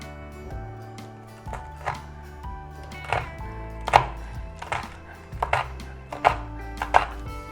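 Green chillies sliced into round, equal pieces on a board, a series of close, sharp knife chops with an irregular rhythm, alone without talk.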